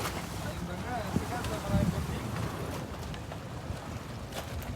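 Fishing boats out at sea in the West Philippine Sea give a steady rumble of engines and open water mixed with wind noise, with someone talking over it.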